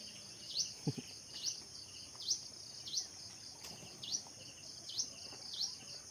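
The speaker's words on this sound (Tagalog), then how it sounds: "Sarap pakinggan ng mga huni ng ibon." Repeated high bird chirps recur about every half second over a soft buzzing insect background, with a low thump near the start; outdoors in the countryside of Palompon, Leyte, fairly faint, no talking.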